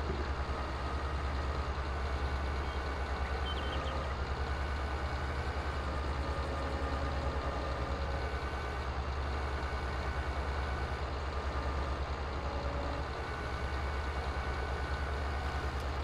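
A semi truck engine idles in Farming Simulator 22, a quiet, steady low rumble holding constant throughout with no other sounds.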